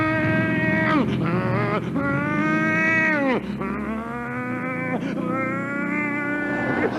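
A comedian vocally imitates a motorbike racing down a steep mountain road at about 90 miles an hour, three long nasal engine whines rising and sliding down in pitch, loud and close, with a brief break between each.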